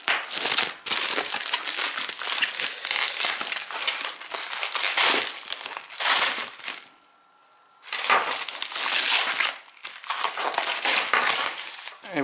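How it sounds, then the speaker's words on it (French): Thick bubble wrap packaging crinkles and crunches close up while an LG Nexus 4 is unboxed, in dense bursts of rustling with a short quieter pause in the middle. "Alors du gros papier bulle."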